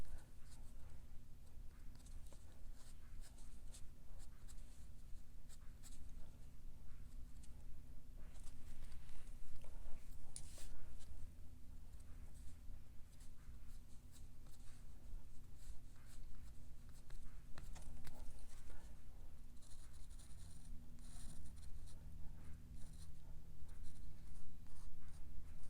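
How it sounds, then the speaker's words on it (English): Pencil erasing across watercolour paper, a long run of soft, steady rubbing strokes in close, quiet continuous scrubbing with no talk. "I'm just going to erase the extra lines."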